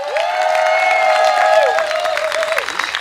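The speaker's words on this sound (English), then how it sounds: "I think we need to give a round of applause to all of those, number one, who's organized this lovely event today" Crowd applause and cheering at the Radiate Windrush Festival 2018, clapping under a sustained sung or tonal voice, with the clapping holding steady throughout.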